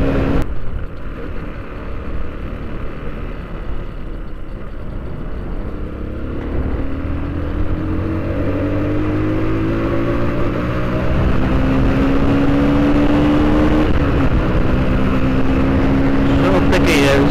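A TMEC 125 Enduro motorcycle rides and accelerates, its engine note climbing steadily in pitch and growing louder through the run, with wind noise throughout and a rider talking over it.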